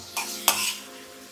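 Bombay duck fish is stirred in a hot pan, giving two brief scraping stirs over a low sizzle.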